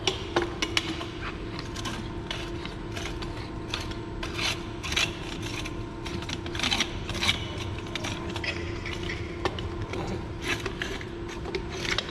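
Fire hose couplings being joined on high-rise hose packs rasp and clack in a steady run of metallic clicks and scraping, close and moderately loud, over a constant low hum with no talk.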